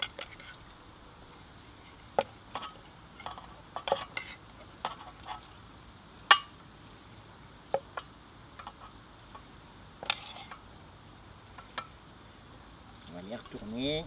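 A spoon dabs marinade onto pork mignon in a small dish, giving faint, sparse clinks and taps against a quiet background, with soft speech-like sounds mixed in.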